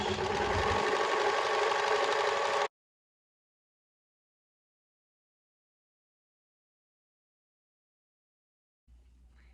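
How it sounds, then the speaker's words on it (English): An overlocker serges around the curved edge of a fabric piece in a loud, close, steady whir that cuts off abruptly after a few seconds, leaving silence before a faint low rumble returns at the end. "Overlocking all the way around the curved edge."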